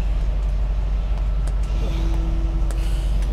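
A car engine runs steadily with a low rumble in The Walking Dead video game, with a faint tonal whine rising partway through.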